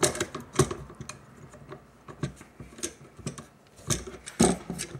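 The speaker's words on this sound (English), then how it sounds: "And you'll take your bolt carrier, and the gas tube fitting fits up in your charging handle." Sharp metallic clicks and clacks as the bolt carrier of a Daniel Defense M4 V7LW rifle is fitted into place, a dozen or so irregular taps close by and moderately quiet.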